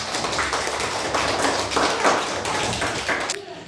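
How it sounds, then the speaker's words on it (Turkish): Schoolchildren in a classroom subtraction tournament give a burst of encouraging applause, a lively spread of hands clapping and tapping that swells and falls in uneven waves before cutting off abruptly near the end. "Bir moral alkışı arkadaşlarınıza."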